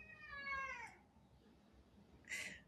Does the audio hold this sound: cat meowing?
yes